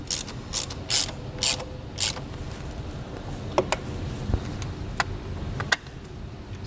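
A ratchet wrench tightens down a wiring harness ring terminal during a trailer wiring install on a 2022 Acura MDX, quick bursts of close clicking followed by a few isolated ticks and clicks over faint background hum.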